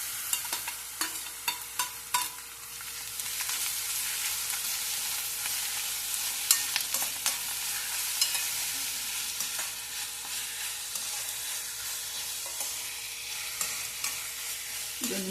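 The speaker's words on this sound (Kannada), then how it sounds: "ಇದೊಂದು ನಿಮಿಷ ಫ್ರೈ ಆಗಲಿ." Grated raw mango, peeled, sizzles steadily in a hot pan for mango rice, with repeated scraping stirs of a spatula over a continuous frying hiss and no talk.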